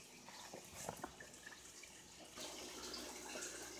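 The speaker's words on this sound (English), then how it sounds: "Just dripping in there. It just runs through at a very slow pace." Water trickles and drips slowly through an aquaponic duckweed system, a soft, continuous patter with scattered small drip accents, faint and close, with no one talking.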